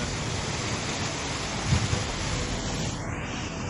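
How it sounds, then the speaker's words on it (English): A waterfall on Senja roars close by in a dense, steady rush of falling water that never lets up. "The noise is a waterfall"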